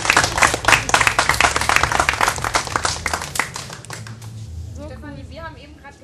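Festival crowd applause for a singer at Hessentag in Homberg/Efze, loud dense clapping that gradually thins and fades, followed by a voice speaking at the end.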